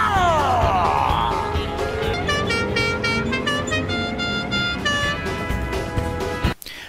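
A musical car horn plays the Dixie tune, like the General Lee's horn from The Dukes of Hazzard, over engine noise, the notes sounding in a quick sequence before cutting off.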